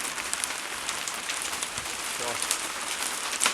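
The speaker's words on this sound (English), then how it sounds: "You hear the water falling on top of the roof." Rain, with hailstones, patters steadily on a roof in Luton, UK, a dense close crackling hiss with sharper individual hits, while someone briefly speaks over it.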